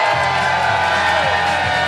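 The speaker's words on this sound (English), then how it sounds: "for our best man Andy, can I have a cheer?" Wedding guests cheer and whoop for the best man, a loud, steady crowd roar with children's shouts mixed in, sustained throughout.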